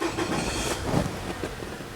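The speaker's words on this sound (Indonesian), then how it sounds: "Saya akan nyalakan mesinnya" A 2007 Nissan Serena C24 with automatic transmission starts up; its engine catches and settles into a low, rumbling idle with some mechanical rattle, close by and fairly loud, with no talking.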